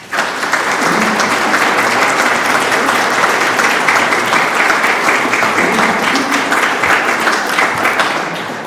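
Sustained, loud applause from an audience welcoming speaker Donna McAleer at an evening talk, steady clapping from a crowd that continues for several seconds before tapering off.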